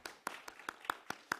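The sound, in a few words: congregation applauding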